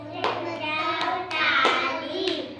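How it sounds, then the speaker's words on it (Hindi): Children in an Anganwadi morning class clapping their hands together in a few sharp, evenly spaced claps over singing voices, close and moderately loud. "ताली बजाओ।"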